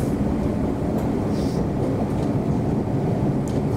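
Inside a London Overground class 710 electric train bound for Liverpool Street, a continuous loud low rumble and hum fills the carriage, with faint higher rattles and no voices.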